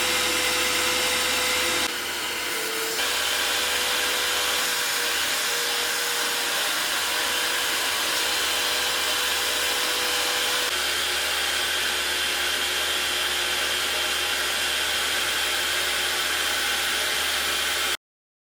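A steady, loud mechanical whir of a vacuum extractor running continuously close by while cleaning out an Acura TSX's carpet, with a brief dip in tone near the start.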